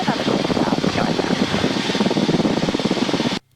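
Rotorway helicopter in flight, with a close, steady engine and rotor drone and a rhythmic chop running throughout. Faint voices sit under it, and the noise cuts out briefly near the end.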